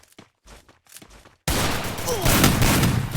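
Sniper fire in a shooter video game, a loud dense burst of gunshots erupting abruptly after a moment of brief talk and continuing steadily.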